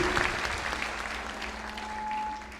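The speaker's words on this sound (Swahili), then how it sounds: "pigieni Chris makofi mazuri." Audience clapping for Chris at a church gathering, continuous and moderately loud, with a faint steady hum beneath the applause.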